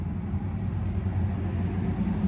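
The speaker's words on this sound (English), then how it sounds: "sorry, that was a really loud truck" A loud truck passes close by outside a home during a vlog, a steady low rumbling engine roar that fills the whole moment with no talk over it.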